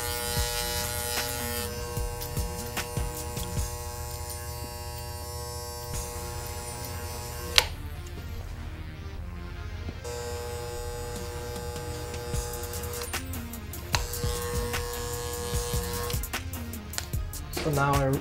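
Electric hair clippers buzz steadily up close while cutting a low skin fade, the hum briefly stopping and restarting partway through as the guards are changed, with no speech.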